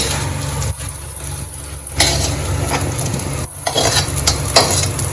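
Taro deep-fries in oil with a loud, dense, continuous bubbling sizzle, broken now and then by the scrape of a stirring utensil.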